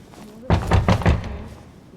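Knocking on a door in The Council: a short burst of four or five heavy wooden thuds in quick succession, close and loud, after a faint tonal hum.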